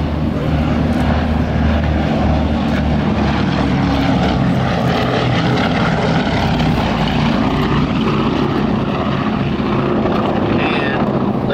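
A B-17 Flying Fortress bomber makes a loud, sustained pass at an open house air show, its piston propeller engines roaring and throbbing throughout, with a public-address announcer talking over it.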